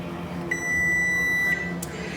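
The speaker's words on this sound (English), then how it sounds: "So my timer is off." A kitchen timer sounds during home cooking of spicy brown chicken, giving one steady, clear electronic beep that holds for about a second over faint kitchen background noise.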